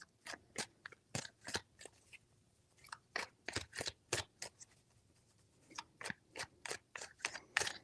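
Tarot cards being shuffled in short crisp bursts, a rapid series of papery riffles and snaps repeating across several seconds, close and fairly quiet with no talking.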